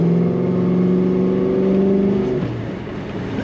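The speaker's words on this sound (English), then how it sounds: "This car is equipped with Sniper EFI, and you can tell the throttle response is nice and crisp." A 1972 Chevrolet Chevelle convertible fitted with Sniper EFI pulls hard under acceleration, its V8 drone loud and close from inside the car, then easing off as the throttle lifts partway through.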